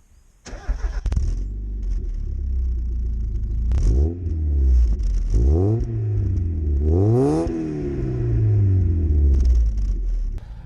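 A turbocharged Mazda MX-5's engine fires up and revs several times, the modified exhaust rising and falling in loud, throaty sweeps over a steady rumbling idle, close by.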